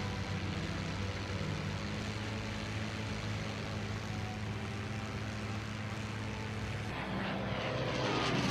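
Piston-engined P-51 Mustang fighter plane diving, a loud continuous engine roar with propeller drone that swells and brightens toward the end, no voices.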